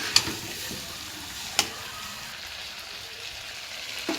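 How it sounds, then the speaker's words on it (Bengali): Mutton frying in oil in a pan while being stirred: a steady soft sizzle throughout, broken by a couple of sharp clicks of the spoon against the pan, with no voices. "এখন বারবার আমরা এটাকে নেড়ে কষাবো, যাতে লেগে না যায়।"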